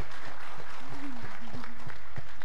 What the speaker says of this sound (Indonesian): tepuk tangan dong sekali lagi buat adik-adik